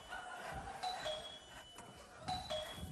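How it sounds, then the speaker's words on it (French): A doorbell chimes twice, a two-tone ding-dong ringing a couple of seconds apart over a dull background hum. "Le son, coupe la sonnette."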